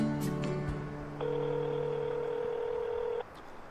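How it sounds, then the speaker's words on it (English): A telephone on an off-grid homestead places a call with a few short tones and then a long, steady electronic tone held for about two seconds, heard clearly and up close without any talking. "I'm going to see if the phone works, and I'll give her a call."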